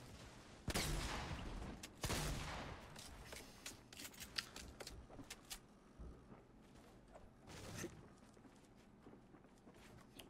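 Gunfire in the video game Fortnite: two loud bursts of shots early on, then scattered sharp cracks and clicks through a busy game mix, with no talk.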